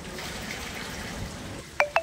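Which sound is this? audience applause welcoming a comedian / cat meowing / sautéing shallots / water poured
water poured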